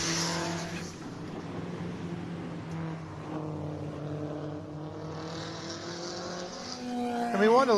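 Race cars at the American Speed Festival, including one with a 3.3-liter engine derived from a Dodge Intrepid, drone past with sustained engine tones that shift in pitch, ending in a louder rising rev as a car nears.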